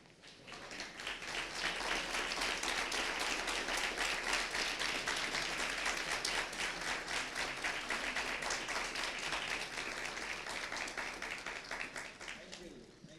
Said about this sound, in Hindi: ये जोरदार ताली बजा के प्रभु को धन्यवाद दे